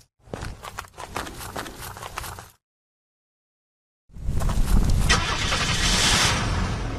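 A vehicle in the survival game Unturned starts after a stretch of footsteps and a sudden silence, then its engine revs loud and steady as it drives off.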